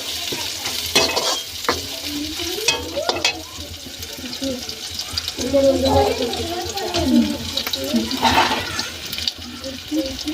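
Onions fry in a pan for a vegetable curry in a village kitchen, with intermittent sizzling, stirring scrapes and splashy bursts, while a voice talks over it.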